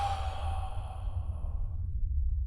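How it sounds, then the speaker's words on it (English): A long, steady breathy exhale of air drifts through a dark corridor, soft and hollow, fading gradually over a couple of seconds with a low rumble underneath. "a long exhale of air, like the corridor itself is breathing out"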